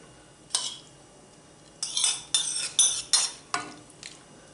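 A spoon clinks and scrapes against a metal pot in several short bursts, stirring minced meat, with quiet pauses between strokes.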